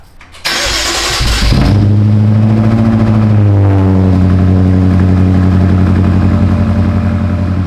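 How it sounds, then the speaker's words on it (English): A straight-piped BMW M5 engine with stock catalytic converters cranks and fires up from cold at 0.5 seconds, roaring loud and raw through open exhaust, then settles into a steady, rumbling high idle. "Let's do a cold start, completely straight piped."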